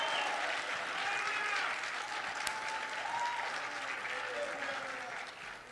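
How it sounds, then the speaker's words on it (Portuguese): A church congregation applauding at a tenth-anniversary celebration, continuous dense clapping heard at a distance, with cheering and whoops rising faintly above it. "Aplauda Jesus o mais alto que você puder aí."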